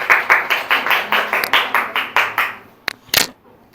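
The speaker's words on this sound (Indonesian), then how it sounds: "tepuk tangan untuk kelompok 4" A classroom gives group 4 a round of even, rhythmic unison claps that stops after a few seconds, followed by a couple of isolated taps and quiet room noise.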